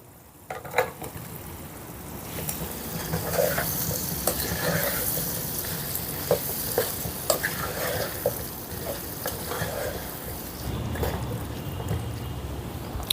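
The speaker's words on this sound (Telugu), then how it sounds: "ఇప్పుడు ఇందులో శుభ్రంగా కడిగి చెక్కు తీసిన ఒక అరకిలో కీర దోసకాయ ముక్కల్ని వేసుకుందాం" Peeled cucumber pieces, half a kilo, tipped into a hot pan of curry base and stirred, giving a steady sizzle with intermittent scraping and stirring clatter, fairly close and without talk.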